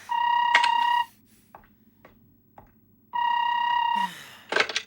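A phone rings in two long electronic bursts about two seconds apart, loud and alone, with faint clicks in the quiet gap between them.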